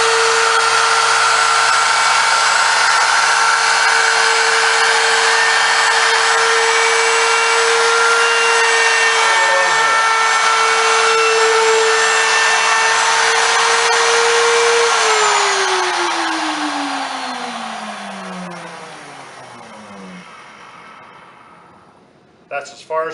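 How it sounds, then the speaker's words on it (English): A wood router cuts along the edge of a table top at close range, a loud, steady high-pitched whine with a constant motor tone that drops in pitch and fades as the tool spins down near the end. "finish off routering the two ends and the one long edge"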